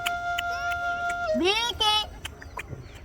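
A hen clucking close by, with short harmonic calls mixed among voices talking nearby and ending in a sudden loud burst.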